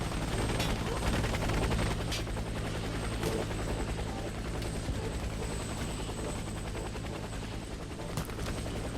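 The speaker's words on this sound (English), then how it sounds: "Helicopter is inbound. Prepare for extraction." A helicopter's rotor thrums steadily while bursts of gunfire crackle around it in the video game Warface, loud and continuous, with a faint voice underneath.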